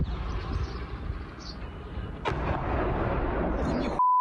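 A sharp distant explosion cuts through a steady low rumble in Shebekino, Belgorod region, while people talk nearby, and a brief electronic beep follows at the end.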